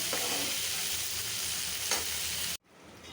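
Vegetable bhaji with onion and green chilli sizzles loudly and continuously in a pan under steady stirring, then the sound cuts off abruptly near the end.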